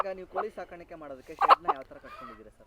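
Native country hens cluck and call in a shed converted from a cattle shed, brief bursts mixed with someone speaking close by.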